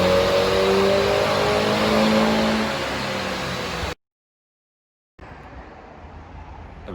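Engine of a remapped Mini John Cooper Works R56 revving loudly and close for about four seconds, then cutting to silence before a quieter steady engine drone resumes.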